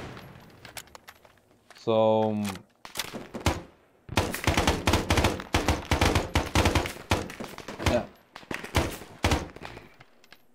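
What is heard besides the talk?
distant gunfire in video game Arma 3 SoG Prairie Fire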